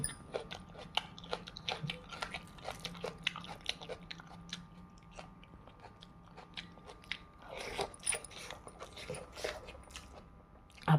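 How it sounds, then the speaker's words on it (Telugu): Crunchy bites and chewing of a piece of raw onion eaten with vegetable rice pulao, close and quiet, a steady series of crisp crunches. "ఒక ఉల్లిపాయ ముక్క కూడా కొరుక్కుందాము."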